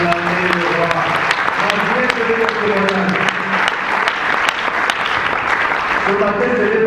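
A church congregation applauds to acclaim the king, a dense, loud, sustained clapping that fills the room for several seconds while voices call out over it.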